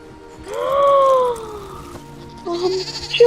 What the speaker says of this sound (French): c'est des moutons